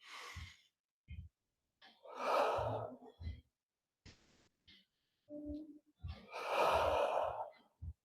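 Deep yoga breaths during a sunrise practice: long, airy inhales and exhales in two large swells with softer breathy puffs between, close and clear, no talking.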